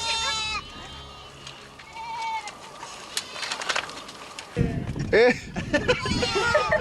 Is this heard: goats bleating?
yes